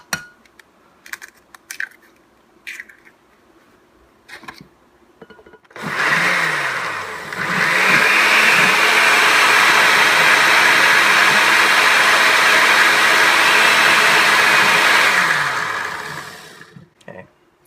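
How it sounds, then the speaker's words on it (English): Blender whirring through eggs and parsley, a loud close motor roar that starts, rises in pitch and holds steady for about ten seconds before cutting off, preceded by scattered clicks and handling taps. "You don't want to blend it more than you have to, because then it gets too foamy."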